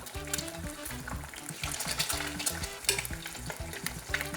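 An egg fries in a pan with steak fat, spooned over it for basting: a loud, steady crackling sizzle runs throughout with small scraping accents, and no voices.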